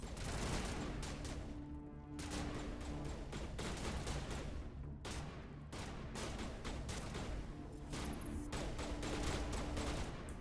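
Sustained gunfire from a firefight in Mass Effect Legendary Edition: rapid bursts of shots layered into a constant rattling barrage with brief lulls, fairly faint overall and without voices.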